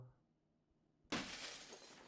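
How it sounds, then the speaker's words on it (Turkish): A glass window shatters suddenly in the horror video game Fears to Fathom: Home Alone, a loud crash after near silence, followed by a long tinkling tail of falling shards. "camı patlattı"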